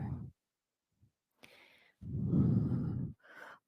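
Breathing during a vinyasa power yoga practice: a couple of audible exhales, the longest a strong, breathy whoosh lasting about a second, with short softer breaths around it and no talk.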